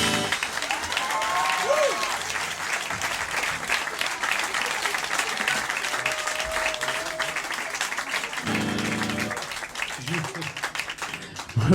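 Audience applause at a casino concert, steady sustained clapping from a crowd filling the room, with a speaker's voice and some music tones heard over it.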